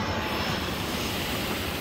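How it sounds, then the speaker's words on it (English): Airplane engine roaring overhead by the riverside, a loud, steady, broadband drone that fills the whole moment without any talking. "So it's a great spot for plane spotting,"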